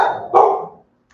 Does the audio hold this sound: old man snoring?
no